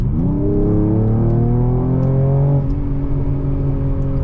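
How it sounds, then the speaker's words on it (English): A 2021 Mercedes-Benz E53 AMG, floored, kicks down and pulls hard. A loud, steady engine drone climbs in pitch for a couple of seconds, then settles into a sustained roar, with no voices. "let me floor it right now and let me show you guys just how long it takes for it to downshift"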